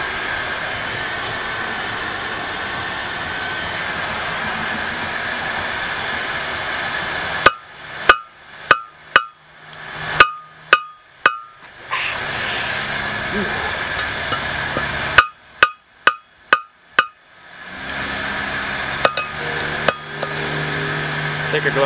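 Hammer blows ring on hot metal at a forge while a horn-shaped candle holder is made, two quick bursts of about six sharp strikes each, between stretches of steady roaring forge blower hiss.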